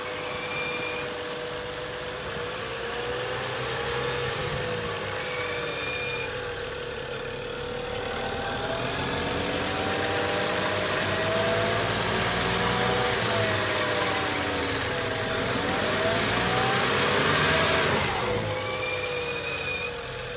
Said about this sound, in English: I have a weird certain squealing noise that we'll actually put a clip in of that